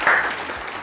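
Brief applause from a studio audience on a Macedonian music talk show honoring a singer, a short burst of clapping with no voices over it.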